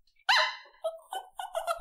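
A small female dog gives one high, drawn-out bark followed by several shorter yips and whimpering barks, close and clear against silence.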